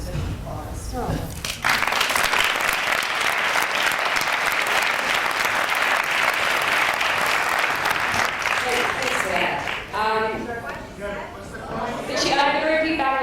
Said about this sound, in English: So I think that deserves an applause